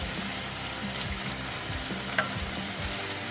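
Venison heart sizzling in hot coconut oil in a pan, a steady close crackle and hiss running unbroken throughout with one small sharp pop partway through.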